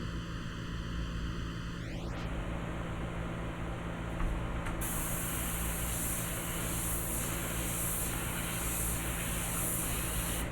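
Airbrush spraying India ink on paper, a continuous close hiss that brightens and strengthens partway through after a rising whistle-like tone at the start.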